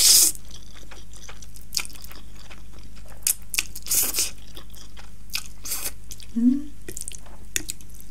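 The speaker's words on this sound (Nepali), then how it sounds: "एगलाई mix गर्दु egg yolk ramen first bite खाएँ ल" Eating spicy Buldak ramen mixed with egg yolk: a series of soft wet bites, slurps and crunchy chewing sounds spread across the stretch, close to the mic over a steady low hum, with no talk.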